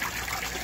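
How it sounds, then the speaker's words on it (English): Water gushes through an aquaponics siphon at its normal flow, a brief, loud, steady burst of splashing liquid heard close by. "That's the normal siphon flow until the siphon will break."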